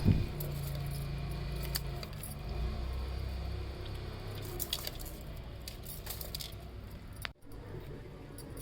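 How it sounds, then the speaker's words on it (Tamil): A whole fish being rubbed by hand with salt and washed, giving steady wet squishing and gritty rubbing that runs close and continuous for several seconds, with a brief break near the end. "நல்லா இந்த மாதிரி உப்பில் தேய்ச்சி தேய்ச்சி கழுவணும்"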